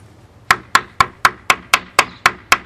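Pommel of a Gerber LMF II survival knife used as a hammer: nine sharp, evenly spaced metallic knocks about a quarter second apart, close and loud, with no talking over them.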